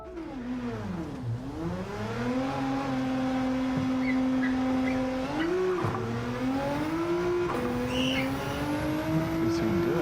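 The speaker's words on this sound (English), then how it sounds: "Take this Lowe's car out here and drive around track." Race car lapping a track in the video game Gran Turismo 7: a steady engine drone rises and falls in pitch through gear changes and corners, continuous and fairly close, with no talk over it.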